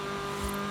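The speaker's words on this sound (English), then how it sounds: "Whirring? That's a good word for an electric motor, right?" An electric car in Forza Horizon 5 gives off a steady, tonal motor whir with layered hum, close and constant through the brief moment, and no voices.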